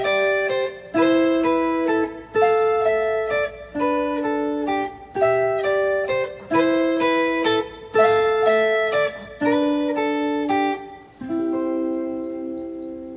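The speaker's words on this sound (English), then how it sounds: "here are 3 great finger exercises that will develop your accuracy, dexterity on a guitar" Clean electric or acoustic guitar plays a finger exercise for improvising over chords: repeated melodic phrases in short, evenly spaced bursts, a steady rhythm with no talking, ending on a sustained note.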